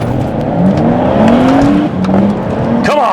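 A manual BMW M140i of about 450 horsepower launches hard in first gear with traction control half off, its engine roaring loud and steady as revs climb through rising pitch, then a quick shift near the end.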